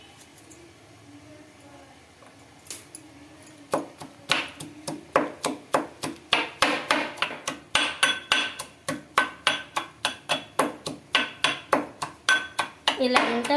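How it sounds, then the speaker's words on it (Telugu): Ginger is pounded in a mortar for chicken curry paste with steady, fairly quick thuds, close and sharp. The rhythm starts after a few quiet seconds and repeats evenly. "అల్లం పేస్ట్ ఇంకా అవసరానికైతే ఇందులోనే దంచుతున్నాం"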